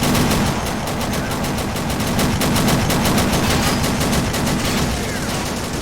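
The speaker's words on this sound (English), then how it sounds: "Hell of a firefight with the Japanese." Dense, continuous gunfire in a battle between American Marines and Japanese troops on Saipan in Men of War: Assault Squad 2, with rapid automatic bursts and crackling volleys forming a loud, unbroken wall of shooting.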